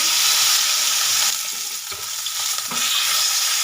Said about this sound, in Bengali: মাছ উল্টো পাল্টে লাল লাল করে ভেজে নেবো কীভাবে এই মাছগুলোকেও ভেজে নেব